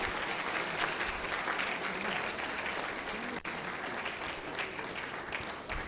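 Sustained applause from a seated audience at an academic talk event, a dense, even patter of many hands clapping throughout, fairly faint and distant.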